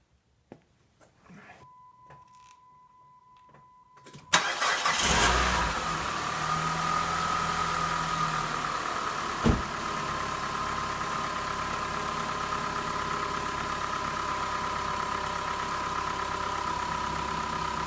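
Chrysler PT Cruiser, freshly repaired after electrical issues, cranks briefly after a few quiet clicks, then catches and roars to life with a rev and settles into a steady, even idle that runs for over ten seconds, with no talk.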